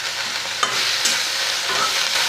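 Malabar spinach is stir-fried in a hot pan, giving a close, continuous sizzle with a few sharp scraping clicks from stirring. No one speaks.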